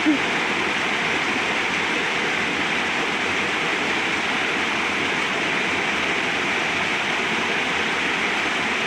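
Steady rushing water flows continuously, a broad even hiss like a stream or river close by, with no talking.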